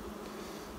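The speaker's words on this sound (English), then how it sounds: "these bees wouldn't have been flying much, so they're really flying hard today" Honeybees fly hard at a beehive after a cold week, a dense, steady close buzzing drone filling the brief moment without talk.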